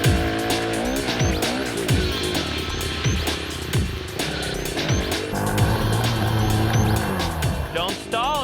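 Small engines on mini bikes rev up and down in repeated sweeping bursts during a camp riding challenge, loud and close, with people talking over the noise.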